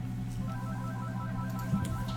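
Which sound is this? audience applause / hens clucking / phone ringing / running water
phone ringing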